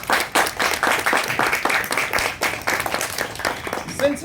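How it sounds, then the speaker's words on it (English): A room of people claps at a joint Toastmasters club meeting. The applause is dense and steady for about four seconds, with faint voices mixed in. "Let's give a round of applause."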